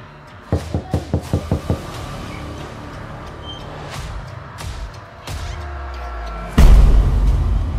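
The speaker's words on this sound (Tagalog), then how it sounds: "May kumakatok." A rapid series of six sharp knocks on a door, close and loud, followed by quieter room sounds and occasional thumps, ending in a heavier rumbling noise.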